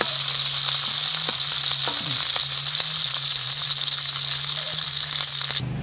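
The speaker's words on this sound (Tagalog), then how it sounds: "Prito na okra and talong and isda." Okra, eggplant and fish frying in hot oil, a loud constant sizzle and crackle with occasional stirring clinks, close up and without speech.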